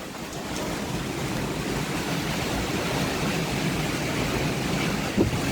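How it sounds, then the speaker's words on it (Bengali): Strong wind from Cyclone Remal roars steadily around buildings in the Mukundapur area during a power cut. The broad, unbroken rush stays loud throughout, with no voices. "প্রচুর হাওয়া বইছে, প্রচুর হাওয়া বইছে।"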